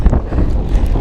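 Strong wind buffeting a microphone while cycling uphill, a rough, gusty low rumble with uneven bursts, loud and close.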